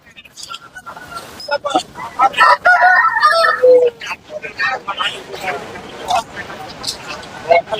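A rooster crows loudly nearby amid clucking fowl at an outdoor livestock market in Kunnathur, Tiruppur, with people talking in the background.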